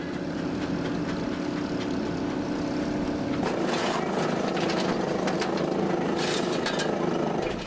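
Antique tractor engine pulling a plow through hard ground at an antique farm show, a loud continuous engine drone with steady low rumble, shifting pitch and load partway through as the tractor strains.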